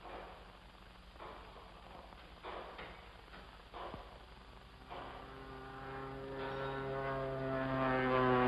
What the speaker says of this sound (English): It isn't the mail plane. It's a small job, listen. Flying low, too.